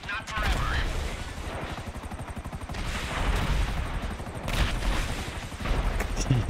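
Rapid bursts of gunfire in GTA Online crackle in repeated volleys, fairly loud, with people talking over the shooting.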